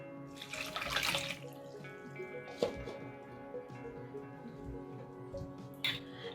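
Warm water pours and splashes into a bowl for homemade salt-and-flour clay, a close, quiet trickle with a few brief louder splashes and drips.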